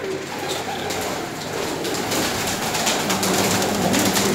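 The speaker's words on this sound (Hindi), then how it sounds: "ये बटेरा कबूतर है जी।" Bateray pigeons kept by a breeder in Karachi coo continuously at close range, a soft, throaty murmur under faint background noise.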